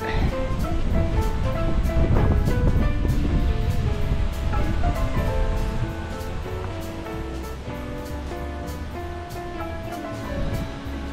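The Hers-Mort river flows beneath an aqueduct of the Canal du Midi, a steady, loud broadband rush of water that stays constant throughout with no voices.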